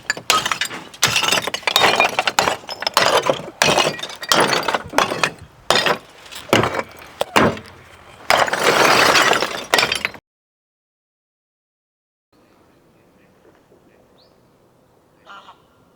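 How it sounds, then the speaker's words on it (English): Old asphalt roof shingles smashed outdoors in a street during a roof tear-off: a rapid series of loud, crunching breaking impacts for about ten seconds, followed by near silence with a faint clatter. "So I'm smashing some more shingles."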